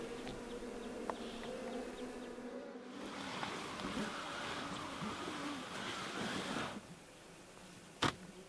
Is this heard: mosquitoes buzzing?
yes